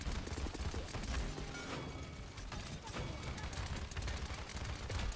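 Sustained automatic gunfire from the video game Paladins: continuous rapid bursts of shots with heavy low booms, loud and unbroken throughout.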